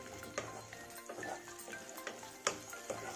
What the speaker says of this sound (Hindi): अब देखिए ये हल्का फ्राई हो चुकी है भिंडी